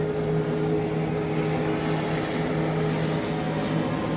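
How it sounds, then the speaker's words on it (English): A continuous low engine drone of a boat passing at a distance, steady and moderately faint, with no speech over it. "Got a boat going by out there, that's what that noise is."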